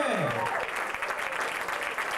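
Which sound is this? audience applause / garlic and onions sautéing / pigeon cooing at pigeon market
audience applause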